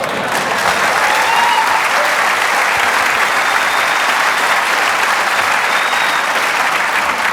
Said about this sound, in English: the applause there is for me and not for President Reagan